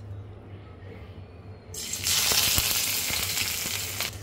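Onions go into hot oil for a chickpea curry and a loud, bright sizzle bursts in after a quiet start, then carries on at a steady hiss close to the pan.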